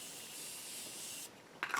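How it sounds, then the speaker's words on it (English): A short, close hiss of Morphe Continuous Setting Mist spraying, one steady burst that stops abruptly, then a faint brief rustle. "I'm just going to do a little spray with my Morphe"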